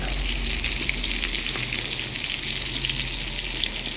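Ribbon fish frying in hot oil, a steady bright sizzle and crackle throughout, close and continuous with no talking.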